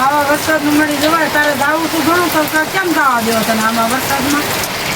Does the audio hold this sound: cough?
no